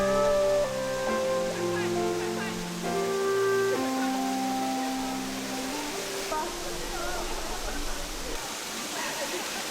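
Rushing water from the waterfalls of Cheonghak valley on Naeyeonsan mountain makes a steady, broadband roar, partly masked at first by music.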